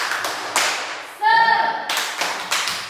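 Classroom of young students performing a rhythmic clapping chant, sharp patterned claps in bursts alternating with children's voices chanting along, close and loud.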